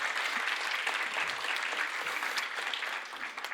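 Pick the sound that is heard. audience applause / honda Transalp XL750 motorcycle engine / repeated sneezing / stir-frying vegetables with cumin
audience applause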